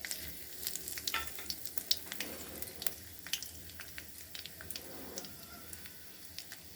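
Nigella seeds and two torn dried red chillies fry in oil over lowered heat, giving a soft sizzle dotted with quick, irregular crackling pops, with no voices.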